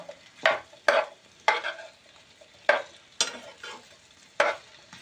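A spoon stirs masala okra curry in a pan, making about ten distinct scraping strokes in an uneven rhythm, close by, over a light sizzle with no talk.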